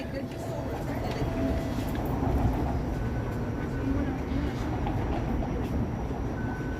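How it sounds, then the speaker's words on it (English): Inside a packed Toronto TTC streetcar, a steady low rumble and rolling drone continue throughout, with the murmur of passengers' voices underneath. "The streetcar's packed."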